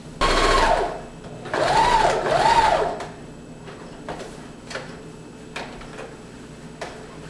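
A sewing machine stitches tulle for a tutu in three whirring runs of rising and falling speed, then stops. A few light ticks and clicks follow in a quiet room.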